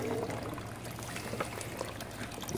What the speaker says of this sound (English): I'm going to take my little micro sluice and just start washing it out